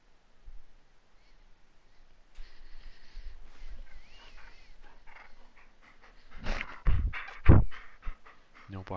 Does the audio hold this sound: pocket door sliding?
no